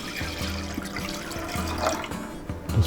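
Chicken broth is poured into a cooking pot with a continuous liquid splash and gurgle, joined by low rhythmic clunks and small knocks in the kitchen.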